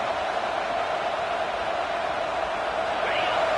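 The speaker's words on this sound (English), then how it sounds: "This crowd bringing the energy and noise early." Continuous loud crowd roar fills a large stadium in a college football video game, a steady wash of cheering noise with no break throughout.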